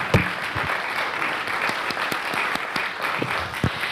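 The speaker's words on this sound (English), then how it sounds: "let's give a round of applause to all of our speakers" Steady audience applause for the speakers at an interfaith dialogue event, a continuous patter of many hands clapping at moderate loudness for the whole stretch.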